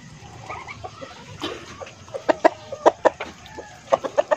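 Black Australorp and Decal Brown crossbreed chickens on a farm cluck in short bursts, with soft murmurs at first and then a run of sharper, louder clucks close by. No one speaks.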